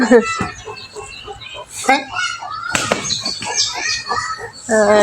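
Ducks and chickens at a rural village home make a loud, busy commotion of squawks, clucks and wing flaps, with people talking closely over the noise.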